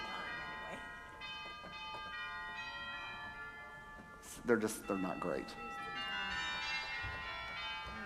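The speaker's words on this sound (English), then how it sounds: "And those are tubular chimes that are long, that hang there, and they are activated from here" Church tubular chimes, long hanging tubes struck from the organ, ring in sustained bell tones that hang and overlap, with a person speaking briefly in the middle.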